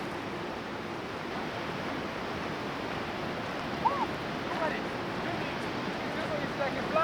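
Murchison Falls in Uganda gives a constant broadband roar of falling water, steady and moderately loud from a distance, with a few faint bird calls on top.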